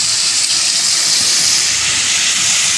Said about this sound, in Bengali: আর এই তেলটাতে আমি এই আলুগুলো একবার ভেজে নেব